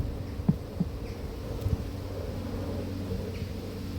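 Dark Caucasian honey bees hum softly and steadily inside an open hive, a low continuous drone with a few faint knocks and bumps near the start.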